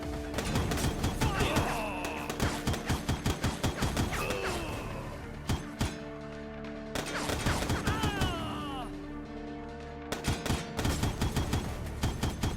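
Gunfire in the Foreclosed video game, repeated rapid bursts of shots and impacts spread across the scene, fairly close, with brief gaps and tonal game sounds between volleys.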